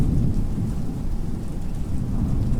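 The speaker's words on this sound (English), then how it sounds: "Red lightning slashes the darkness, its flash a precursor to the echoing roar of thunder" Deep, rumbling thunder rolls continuously with steady heavy rain, loud and dense with no pauses, like a full thunderstorm sound effect.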